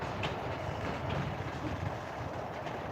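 Train rolling through Basford Hall Sidings at Crewe, a steady, moderately distant rumble with rhythmic clickety-clack of wheels over rail joints and no voices.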